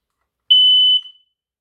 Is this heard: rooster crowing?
no